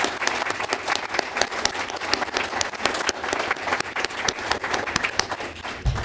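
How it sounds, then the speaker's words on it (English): Audience applause at a library reading presentation, steady crowd clapping with sharp individual claps throughout, sustained and fairly close, no speech over it. "could we have another round of applause for everyone?"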